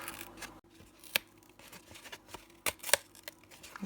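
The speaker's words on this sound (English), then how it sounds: "what I'm doing is I'm pulling the top layer off it to reveal the corrugated underneath" The top paper layer is peeled off a corrugated cardboard box, giving soft tearing and rubbing close by, with several crisp rips scattered through the quiet, and no voices.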